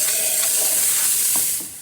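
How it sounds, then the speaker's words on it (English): A short, loud burst of hissing steam rushes continuously from a Vibiemme espresso machine steam wand purge, then cuts off abruptly near the end. "Let's check the steam. Give it a quick little purge."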